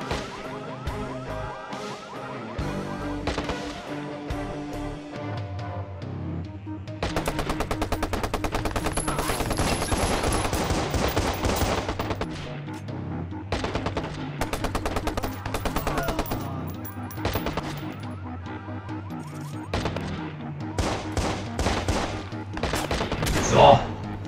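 Rapid bursts of automatic gunfire in the video game Watch Dogs, repeated volleys over a steady background music bed for the whole stretch, dense and close.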